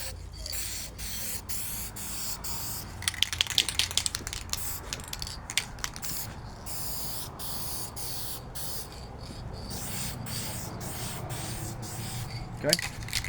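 An aerosol can sprays clear coat onto a 3D-printed RC vehicle part, a soft continuous hiss broken by short bursts and clicks of the nozzle, close and fairly quiet.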